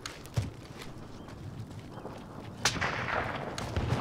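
Gunshots ring out in a Call of Duty Warzone match, a few sharp cracks scattered through steady game ambience, with a louder burst near the end.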